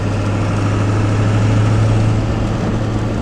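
A 7.3 diesel truck engine with a Magnaflow exhaust idles steadily, a deep, even low-pitched drone heard from inside the cab without pause or talk.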